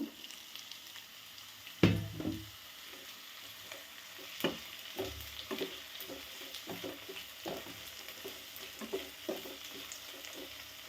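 Tomato and onion sauté in a pan for mushroom roast, with a soft continuous sizzle and regular scraping stirs of a spoon, one louder clatter near the start, close but fairly quiet, with no talking.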